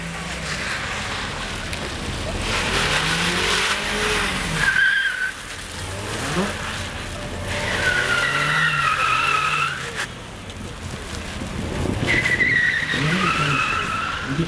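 A car drives fast on a test track with a slippery surface, its engine droning steadily while tires squeal in repeated drawn-out skids at moderate distance.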